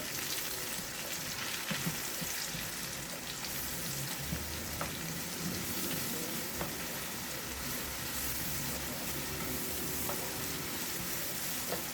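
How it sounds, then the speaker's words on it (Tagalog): Chicken browns in a frying pan with butter, a steady close sizzle and crackle of hot fat with occasional sharp pops and faint stirring scrapes, no voices. "I-brown natin ng konti."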